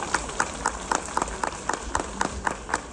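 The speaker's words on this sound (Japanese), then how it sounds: "改めて皆様大きな拍手をお送りください。" Audience applause at a kimono-themed special talk show: close, evenly spaced claps at a brisk steady pace ring out over a softer wash of crowd clapping.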